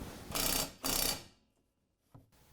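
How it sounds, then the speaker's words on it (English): A car jack cranks up to realign a suspension control arm during coilover work, giving two loud, sustained ratcheting bursts close by, followed by quieter mechanical clicks and a brief clunk. "we're going to go ahead and use the jack to line the control arm back up"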